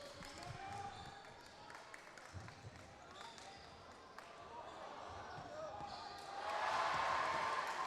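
Faint, distant thuds of a basketball bouncing on a hard indoor court as a university basketball quarter winds down in a nearby sports hall, with scattered crowd noise and a swell of cheering near the end.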